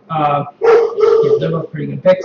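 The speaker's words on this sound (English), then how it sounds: "Sorry about the dog." A dog barks and yips close by in a home, its barks mixing with someone talking over it.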